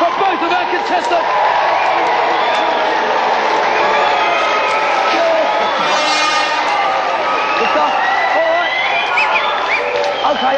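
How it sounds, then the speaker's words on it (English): A studio audience at a video game show cheers and claps for two contestants after a match, a loud continuous crowd roar with whoops, mixed with music and talk. "Let's have a round of applause for both of our contestants."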